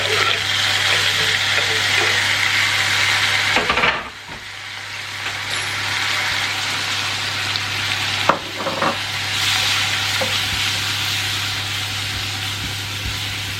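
Tomatoes and spices hit a pan of cooked onions for a curry, giving a loud, close, hissing sizzle that stays steady, with brief dips and a couple of utensil knocks as the mixture is stirred.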